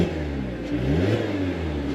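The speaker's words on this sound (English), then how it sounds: "Let's hear this 4-cylinder engine" The 4-cylinder engine of a 2021 Mazda MX-5 Miata RF Club automatic revs up and settles, with a rising then falling mechanical drone heard close and clear, with no talking.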